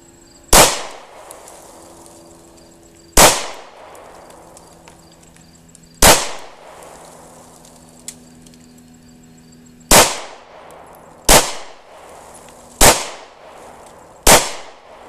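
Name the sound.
gunshots from a Ruger SR9C pistol at the range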